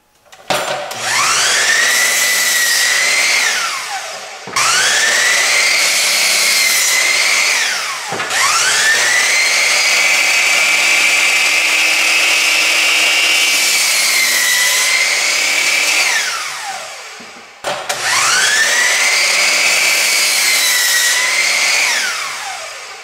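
A power saw cuts wooden boards to length in a workshop, with four long, loud whining passes through the wood and short pauses between them.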